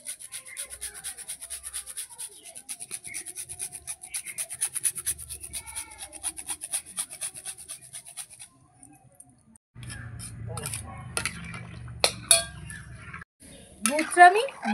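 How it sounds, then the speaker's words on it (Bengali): Jaggery grated with a kutuni into warm milk, a rapid rhythmic scraping and rubbing that runs steadily for several seconds, close and fairly quiet, then gives way to clinks and bumps as someone talks. "কুটুনি দিয়ে ঘষে গুড়টা দিয়ে দিচ্ছি।"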